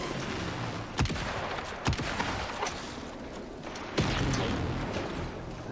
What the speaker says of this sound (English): Oh, I think I hear shooting.